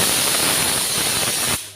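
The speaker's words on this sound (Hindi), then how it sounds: "यहाँ पे कुकर पे सीटी भी आ चुकी है।" Pressure cooker whistle from a stovetop cooker of pumpkin, a loud steady hissing blast of steam lasting about a second and a half before cutting off abruptly.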